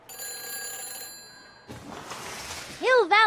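In the Back to the Future game, a telephone rings after a number is dialed: a bright, buzzing ring tone that fades out. A burst of noise and a voice speaking follow.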